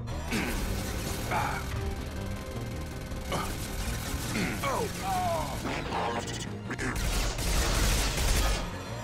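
Gunfire from the video game Mass Effect 2 rattles through a busy combat mix of clanking mechanisms, impacts and crashes, steady and loud, with voices speaking over it.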